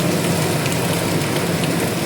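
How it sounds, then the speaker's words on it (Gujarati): Heavy rain pours down at a workshop in Ahmedabad, a loud, dense and unbroken hiss of drops close by with no voices. "કારખાને જોરદાર વરસાદ આવી ગયો."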